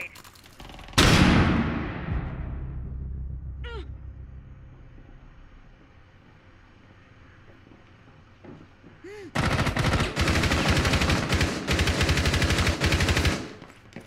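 Gunfire in the tactical shooter Rainbow Six Siege during a hostage rescue: a loud burst of shots opens, fades into a quieter stretch, then dense rapid automatic fire rattles on for several seconds near the end.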